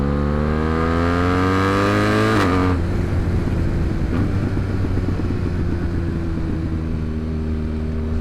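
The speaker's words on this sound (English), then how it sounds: "the amazing sounds being produced by this Van Demon full exhaust system" A BMW M1000 XR motorcycle with a Van Demon full exhaust system, held at high revs with a rising whine and then dropping into a rough, rumbling, crackling idle, loud and close, no speech.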